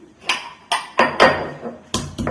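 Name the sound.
crushing garlic with its skin on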